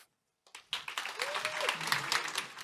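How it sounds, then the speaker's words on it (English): Audience applause welcoming a speaker to the stage at a business conference session, a broad wash of clapping that starts abruptly after a brief silence and holds steady, with a voice briefly heard over it. "I want to hear a huge round of applause as we give a warm welcome to Kayla Brown from Hibbett JD Group."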